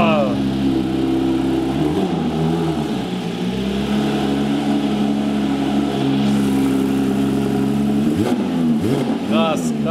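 A Porsche GT3 engine revs hard, rising and falling in pitch with sharp climbs near the start and end, loud and close while people talk excitedly over it.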